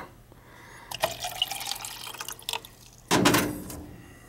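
Tap water gurgling and trickling down a central air conditioning unit's drain line, intermittent wet drips and splashes with a louder burst of pouring flow near the end.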